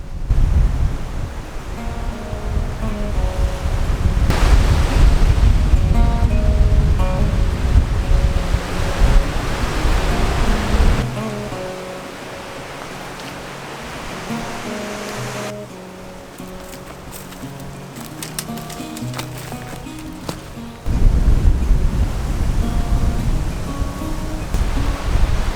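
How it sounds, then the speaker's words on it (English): Strong wind gusts of 50 to 60 km/h roar up Australian mountain slopes, a loud, continuous rushing roar that swells and eases, with gusty buffeting against the microphone. "We're getting wind gusts about 50 to 60 km/h winds, and they just come roaring up these mountains"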